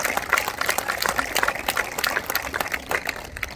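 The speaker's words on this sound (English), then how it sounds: "Give yourselves a round of applause because this is what it truly is about." A crowd claps at an outdoor groundbreaking ceremony, with scattered, uneven hand claps of varying loudness running steadily throughout and no voices over them.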